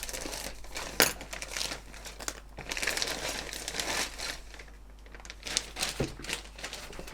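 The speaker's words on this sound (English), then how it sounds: "let's look at this set of plastic parts. They're all in one bag. Sounds a bit rattly" A single bag of loose Airfix plastic model kit parts handled and shaken, giving crinkly plastic rustling with a few sharper clicks of parts knocking together.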